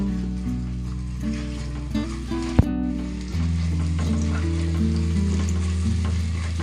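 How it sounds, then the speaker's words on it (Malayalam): A steady, close sizzle of chopped green chili and spices sautéing in a pan for a village-style fish curry, with one sharp stirring clank midway and a faint tonal hum beneath. "ഒരു പച്ചമുളക് ഇതെല്ലാം ഇട്ട് ഒന്ന് വഴറ്റി കൊടുക്കുക"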